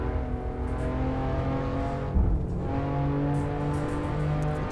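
A BMW M4 with an Akrapovic exhaust driven on the Nordschleife in the racing game Assetto Corsa, its engine holding a steady droning tone with a short dip and thump midway, then continuing at an even pitch.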